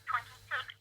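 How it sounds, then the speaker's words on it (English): A second telephone rings in another room, two ring bursts with a pause between them, faint and somewhat distant over a steady low hum. "I hear my other phone ringing."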